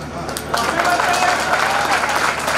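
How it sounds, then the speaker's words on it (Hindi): Poetry recital audience claps in a brief, steady burst of applause, moderately loud and diffuse, with crowd murmur underneath. "ताली बनती थी।"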